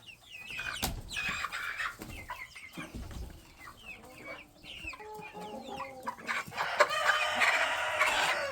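Naked-neck roosters and New Hampshire hens cluck and chatter in a chicken pen, with repeated short calls close by and louder, busier squawking toward the end.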